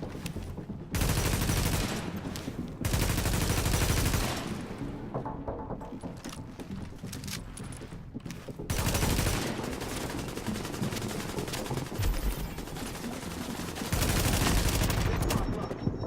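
Sustained automatic gunfire in Tom Clancy's The Division, loud bursts of rapid shots lasting several seconds each with short pauses between, plus scattered mechanical clatter and faint voices in the background.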